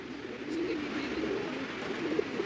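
Pigeons coo softly and repeatedly on a Moscow street near the Chistye Prudy area, a low murmuring flock sound close by over faint outdoor hiss, with no talk.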